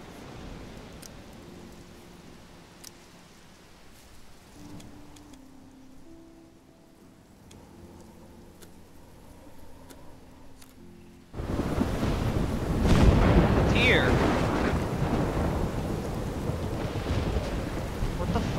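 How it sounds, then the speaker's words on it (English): A storm in Life Is Strange rolls in with low rumbles and soft rain, then swells abruptly into loud, heavy rain and a dense roar of thunder, with faint tones threaded through the quieter opening. "Now I'm back to the storm."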